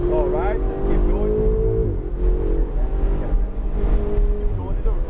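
Ferrari 488 GTB accelerating on Sonoma Raceway, its engine note rising in pitch before easing, heard loud and close from inside the car under steady talk.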